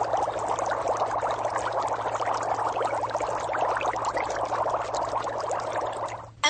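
Breath blown through a tube into a jar of water makes a steady, close bubbling gurgle that runs for several seconds before cutting off.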